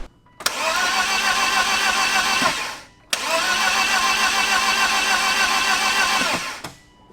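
A BMW E36 318ti four-cylinder engine cranks over on the starter during a compression test, two long, even cranking bursts of about two and a half seconds each, loud and close, with a brief pause between them.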